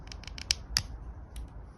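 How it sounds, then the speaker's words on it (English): A knife or blade cuts into the cambium layer of a Japanese maple graft, a few short crisp snipping scratches, faint and close with quiet gaps between them. "I'm going to do the first cut. just cut into the cambium layer, cut that bit off."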